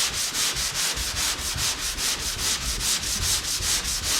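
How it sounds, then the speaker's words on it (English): Long sanding block rubbed over body filler on a Z28's bodywork, a steady run of rhythmic back-and-forth rasping strokes, close and fairly loud, with no voices. "While I'm sanding it with the long block."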